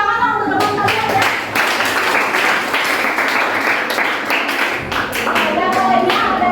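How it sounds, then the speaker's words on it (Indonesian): Schoolchildren in an Indonesian language class applaud their classmates with steady, lively clapping that lasts the whole stretch, with a few young voices mixed in. "Berikan tepuk tangan untuk teman kalian ya"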